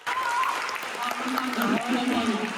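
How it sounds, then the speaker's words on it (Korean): Applause breaks out during an awards ceremony on a spring student field trip, a dense clapping wash heard alongside voices talking and calling out over it. "고생해 준 이재훈 선배에게 큰 박수 부탁드립니다."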